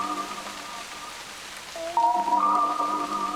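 A rain sample plays from an Elektron Digitakt as a soft continuous hiss beneath sustained synth chords in a lo-fi chill track, with no talking.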